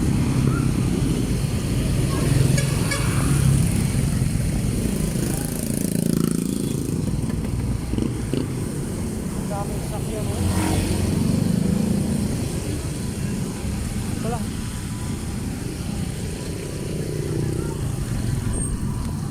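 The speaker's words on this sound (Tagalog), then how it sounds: "ang daming sasakyan" Several vehicles pass one after another on a busy road, a steady mix of engine drone and motorcycle buzz that rises and falls as they go by, with voices talking over the traffic.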